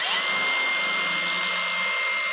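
An APR AP22 Pro angle grinder with an anti-kickback feature is switched on and runs with a steady, moderately loud high whine that holds level throughout.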